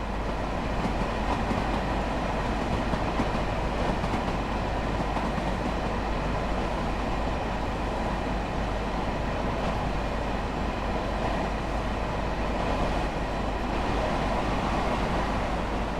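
Continuous rumbling of a train running along the rails in the video game Train Sim World, steady and moderately loud, with faint rhythmic clatter and no voices.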